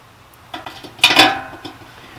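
A metal lid is set back onto a Pit Barrel Cooker, giving a few light scraping clinks followed by a brighter metallic clatter as it seats, then a faint final tap.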